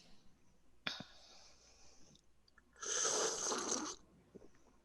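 A sharp sudden intake and burst comes early, followed a couple of seconds later by a longer breathy, hissing explosive sneeze, fairly quiet overall.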